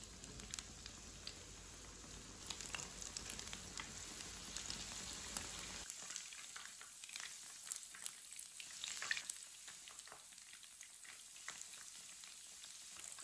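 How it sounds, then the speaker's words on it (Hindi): A paste-dipped sandwich fries in oil in a pan over low heat, giving a soft, steady sizzle with scattered crackles and pops throughout, fairly quiet and with no voices. "इसे हल्की आंच पर 2 मिनट के लिए पकने देते हैं"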